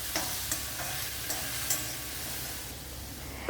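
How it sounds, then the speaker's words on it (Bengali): Tomato and soaked cashews frying in a pan, a soft continuous sizzle with occasional light utensil taps and stirring scrapes, fairly quiet and close with no talking. "কাজুটাকে দিয়েও ভালো করে ফ্রাই করে নিচ্ছি"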